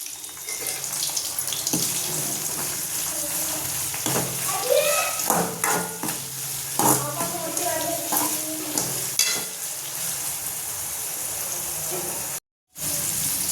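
Vegetables with salt cooking in a pan on the stove, a steady soft sizzle under scattered clinks and stirring scrapes, with a brief cut to silence near the end.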